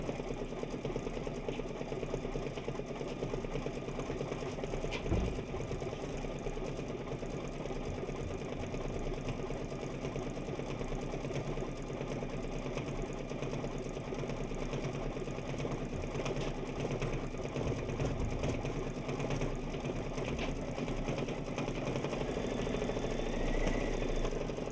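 A Kimberbell embroidery sewing machine stitches out a quilt block for the Oh Sew Delightful quilt, running with a steady, continuous mechanical whir and rapid needle rhythm close by, alone without talk.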